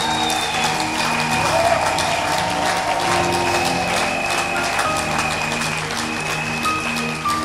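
A church congregation at a French-language Sunday worship service applauds steadily and loudly throughout, a dense continuous wash of clapping with faint voices and tones mixed in.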